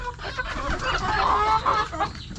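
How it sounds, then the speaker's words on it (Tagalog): Several roosters cluck and murmur together nearby on a farm, a soft continuous chatter of fowl. "Lalaki na ang mga tandang."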